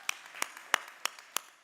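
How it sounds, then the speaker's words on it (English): Five sharp, evenly spaced hand claps ring out close and alone, roughly three per second, a small scattered applause rather than a crowd. "Give yourself a applause."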